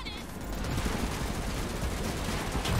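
Continuous machine gun fire in the Matrix Awakens game, a dense, rapid rattle of shots that stays loud and unbroken throughout.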